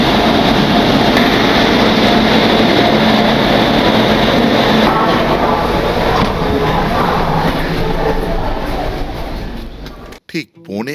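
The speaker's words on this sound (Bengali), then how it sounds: "ঠিক 11:45 নাগাদ আমার ট্রেন রওনা দিল ঝাড়গ্রামের পথে।" A passenger train leaving for Jhargram from Kolkata rumbles loudly and steadily with car noise and rattling, then fades near the end as the sound cuts out; faint background voices can be heard.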